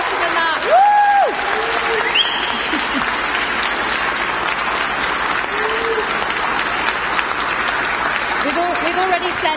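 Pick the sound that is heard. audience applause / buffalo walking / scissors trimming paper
audience applause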